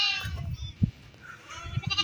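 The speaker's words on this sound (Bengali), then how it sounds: "আর এই হচ্ছে সব বড় ভেড়া" Large garol sheep, part of a flock of about 1500 kept on a farm, bleat nearby: one wavering bleat opens the clip and another rises near the end, with quieter shuffling and faint calls between.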